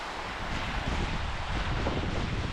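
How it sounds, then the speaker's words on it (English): Steady gusting wind blasts the microphone on the coast of Crete, Greece, a dense continuous rumble with slight surges, no talking. "And it's super windy."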